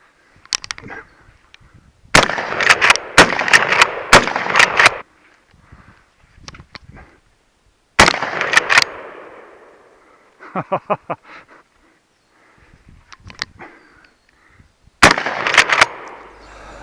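An Adler A-110 lever action shotgun fires Federal Premium 2 3/4 inch buckshot outdoors. The loud, close blasts come in a quick string, then a single shot and a final group, each with a short echoing tail.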